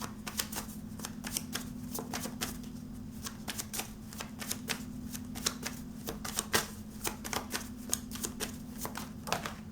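Tarot cards shuffled steadily at close range, a dense run of quick papery riffles and snaps going on without pause, with a low steady hum underneath.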